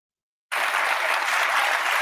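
After half a second of silence, a television studio audience bursts into loud, dense applause that continues evenly to the end.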